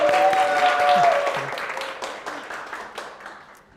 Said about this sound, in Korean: 우리 수고해주신 선생님에게 큰 박수 한번 부탁드릴게요.